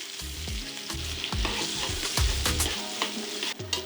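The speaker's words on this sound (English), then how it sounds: "Saute this onion until it's nicely browned." Onion sautéing in hot oil left from browning beef short ribs, a loud close sizzle broken by repeated scraping stirs of a spatula against the pan, no talking.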